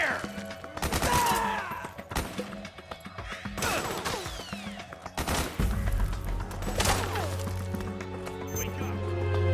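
Gunfire bursts in the video game Metal Gear Solid 4: Guns of the Patriots, loud sharp volleys of shots mixed with crashes and ringing debris, followed by a low humming tone.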